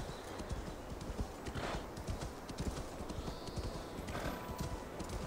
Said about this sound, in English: where's the horse?